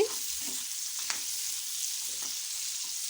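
Eggs frying in masala for a restaurant-style egg curry make a faint, even sizzle on low heat, with a few soft stirring scrapes and no talking.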